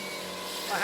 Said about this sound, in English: Christopher Bayley drills a piece of African blackwood for a set of uillean pipes.